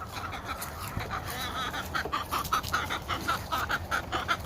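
Chickens clucking and squawking while being fed red cell supplement, a busy overlapping flock close by with steady cackling throughout and no talk.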